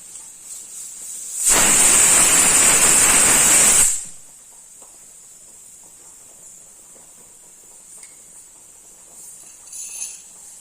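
Coconut oil heating in a small tempering ladle for avial gives a loud, close burst of sizzling hiss lasting about two seconds, then fades to a quiet background.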